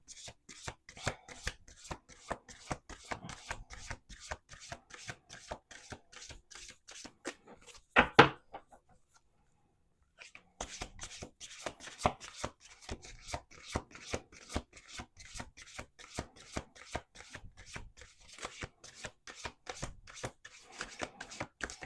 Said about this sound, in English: We're gonna do two more shuffles.